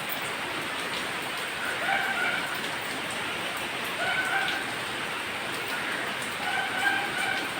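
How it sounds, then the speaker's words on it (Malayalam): Heavy rain falls in a steady, dense hiss that holds through the whole stretch, with faint bird calls rising now and then in the background. "എന്തൊരു മഴയത് മനുഷ്യനെ."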